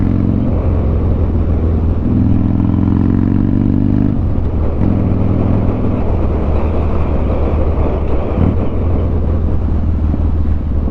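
A 2006 Harley-Davidson Street Bob's engine under throttle gives a loud, steady, close rumble, rising and settling in a few throttle surges across the stretch with no talking.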